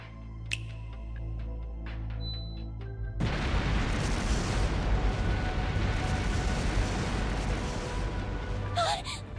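Explosive artifacts planted throughout a palace go off in a video game, a sudden massive boom that swells into a sustained roaring rumble after a quieter musical stretch, with a brief sharp burst near the end.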